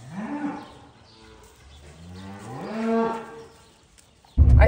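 An older cow in heat moos loudly in long, drawn-out calls, two sustained bellows rising and falling, close and alone, before a sudden loud thump at the end.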